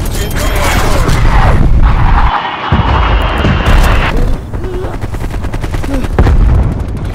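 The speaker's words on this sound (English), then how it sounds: "Incoming artillery." Artillery strike explosions in a military video game land around a contested hardpoint, loud booming blasts and crackling gunfire filling the scene almost continuously, with a brief dip before the barrage resumes and a radio voice calling alerts.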